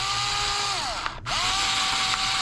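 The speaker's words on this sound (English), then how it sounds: "Drill a hole right here." A power drill whines loudly and steadily while drilling a hole for a fishing jugline, its pitch dipping as the motor briefly slows and stops, then spinning back up to full speed.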